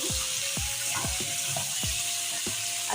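Grated tomato and spices sizzle steadily in a hot pan for a vegetarian potato dum, with several short scraping stirs of a spatula over the continuous frying hiss.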